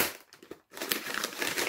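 Strong sticky tape crinkles and tears as a package is unwrapped, with a short rustle, a brief pause, then a louder continuous crackle of tape and wrapping close up.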